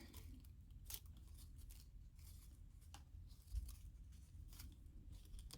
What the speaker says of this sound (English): You just cut it all up like that.